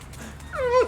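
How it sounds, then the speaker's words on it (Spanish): A dog in a park gives a short, high rising whimper near the end of a brief, quiet moment. "¡Epa, perrito!"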